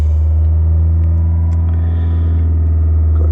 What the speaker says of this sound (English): Okay, so I'm just warming the car up.